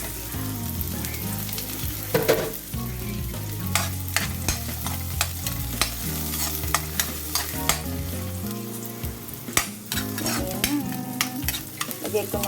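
Garlic and onion sauté in hot cooking oil, a dense continuous sizzle broken by scraping stirs and clacks of a utensil against the pan, loud and close throughout.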